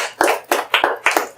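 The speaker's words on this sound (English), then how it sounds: "Clap for yourself." A small group claps loosely, with several uneven bursts of hand claps close by and no talking.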